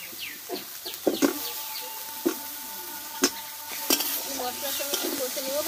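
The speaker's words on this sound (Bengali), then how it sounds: "এবার কষে রাখা আলুগুলোকে আমি দিয়ে দেবো" Potatoes stirred into a spice paste frying in a pan, soft sizzling broken by repeated spatula scrapes and clinks, with faint bird chirps in the background and no speech.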